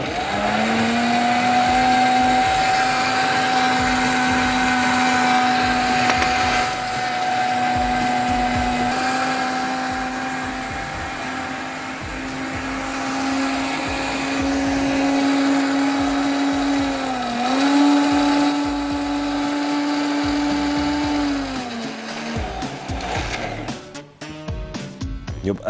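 A kitchen blender runs steadily on its lowest speed, churning hot lentils in a restaurant kitchen; the loud, continuous motor whine holds level, dips and rises slightly midway, then winds down with rattling at the end.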